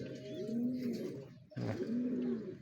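A pigeon coos close by in two long, soft, throaty phrases separated by a brief pause, heard alone without talk.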